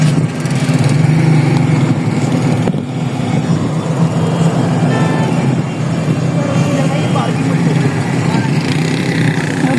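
A motorbike engine runs steadily and loudly throughout as children arrive on it, a continuous low rumble with voices chattering over it.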